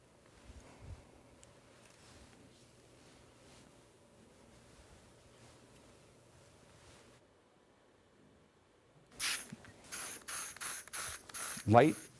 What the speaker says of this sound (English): Light jets of spray, trying to direct the spray in the direction that the hair is going.